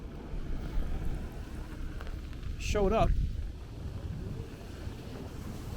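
Steady wind rumbling across an open microphone on a street walk in Sunset Park, Brooklyn, with a brief voice rising over it partway through.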